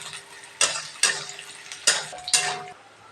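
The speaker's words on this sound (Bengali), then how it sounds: "আদা রসুন দিয়েছি, এটা ভালো করে মিক্স করে ভাজা হবে" Onion, ginger, garlic and green chilli fry in a pan, a soft sizzle broken by four sharp metal spatula scrapes and clinks as the mix is stirred.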